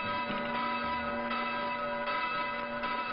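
Church bells ring in Cyprus, a sustained resonant tolling with repeated strikes layered over a steady hum, fairly loud and unbroken, with no voices.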